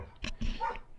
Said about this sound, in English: here the dogs go again